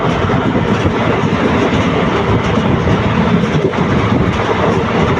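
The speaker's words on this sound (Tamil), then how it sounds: "செம்ம ஸ்பீடுங்க ட்ரெயின் காட்டு வேகம் பாருங்க" A train between Dindigul and Udumalaipettai, India, rushing along at speed, with a steady loud roar of wheels and wind and faint rhythmic rail clatter throughout, close by.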